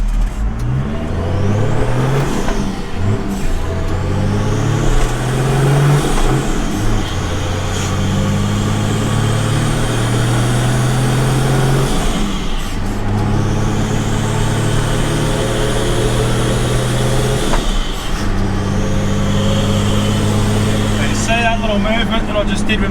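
A 1982 Ford Trader turbo diesel tow truck pulls onto a main road during a cyclone, its engine loud and close as it climbs in pitch through several gear changes, with a steady cabin hum underneath.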